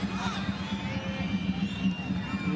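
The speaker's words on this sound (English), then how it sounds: "Big cheer from the Al Wasl fans." Al Wasl football fans in a stadium during an AFC Champions League Elite match against Al Hilal, a sustained distant crowd roar that swells as a cheer, steady and fairly faint under a commentator's voice.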